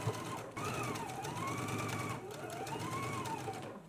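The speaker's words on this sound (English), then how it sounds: "Let's go ahead and stitch now." A sewing machine stitches a waistband seam on a dress, a steady close whir running the whole time alongside a rising and falling tonal line, like background music.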